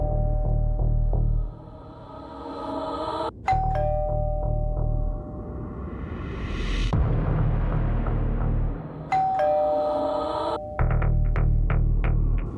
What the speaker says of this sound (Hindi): बस डोरबेल बजी